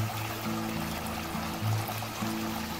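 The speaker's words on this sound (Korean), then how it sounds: "문 옆에 흘러나오는 물소리 한번 들어보시죠." Water flowing out beside a garden gate in a pond garden with a small fountain and stepping stones, a steady close pouring and trickling stream with no voices.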